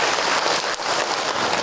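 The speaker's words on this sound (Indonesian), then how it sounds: "Tepuk tangan buat ibu-ibu." A crowd of women in a religious lecture audience claps, a dense, loud burst of applause that fills the whole stretch evenly with no talking.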